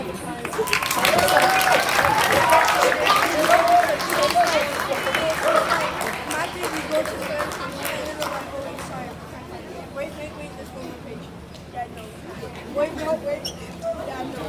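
Clapping breaks out at a school athletics banquet, strong at first then thinning into scattered claps over crowd chatter and a speaking voice, with a few claps rising again near the end.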